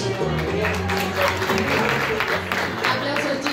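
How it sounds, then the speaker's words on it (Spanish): Audience applause after a women's dance choreography performance at Sala Galán, a dense patter of clapping layered over music and an announcer's voice for a few seconds. "¡Fuerte los aplausos!"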